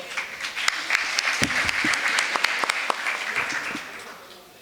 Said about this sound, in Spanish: Aplauso para el compañero que...